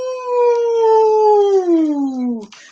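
Kids' voices imitate wind with a long, gliding 'woo' that slowly falls in pitch and fades out after about two and a half seconds. The sound is close and steady, with no other noise.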